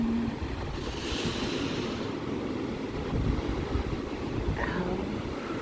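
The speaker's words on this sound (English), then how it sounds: "Maybe as the waves roll in, we can breathe." Ocean waves roll steadily onto a beach, a continuous broad wash of surf with gentle swells, mixed with some wind noise across the microphone and no talking.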